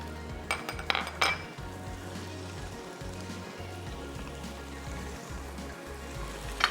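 Chicken with green chili paste frying in a pan, a steady sizzle throughout with a few sharp metallic clinks of a utensil against the pan early on.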